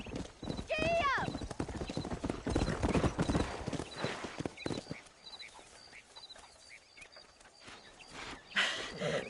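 Hooves of a horse clip-clop in fast rhythm during a gallop in the video game Red Dead Redemption, with a whinny early on, birdsong and voices talking over the ride.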